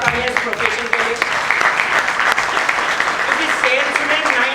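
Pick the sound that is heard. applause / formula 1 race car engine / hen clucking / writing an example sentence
applause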